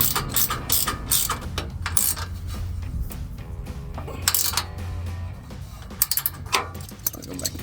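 Ratchet tightening running board bolts on a 2019-2024 Chevrolet Silverado 1500, with rapid clicking bursts and metallic clinks of the tool, close-up, repeated in short spurts.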